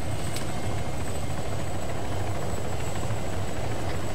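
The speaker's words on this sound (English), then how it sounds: "It's a chopper." Helicopter in the video game Arma 3 during a night mission, a loud steady rotor and engine drone with a pulsing low thump that holds constant throughout, without speech.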